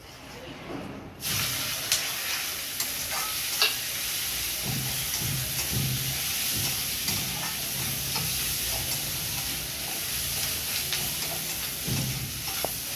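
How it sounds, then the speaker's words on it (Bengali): Chopped onions frying in hot oil in a pan, after eggs were fried in it, for a Bengali chicken and duck egg curry: a steady, loud sizzle throughout with occasional stirring scrapes. "এই তেলে আমি এবার পেঁয়াজ দিয়ে দেবো।"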